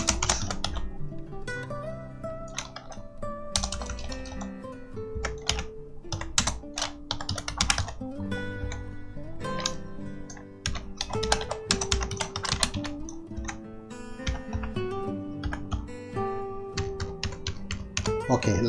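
Rapid, uneven typing on a computer keyboard fills form fields, with dense bursts of crisp key clicks close to the mic and short pauses between runs of keystrokes.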